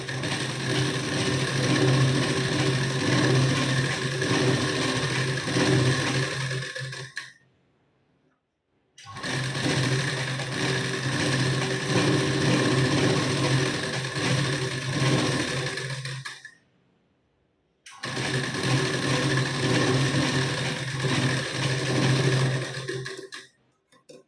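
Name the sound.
sewing machine topstitching a blouse waistband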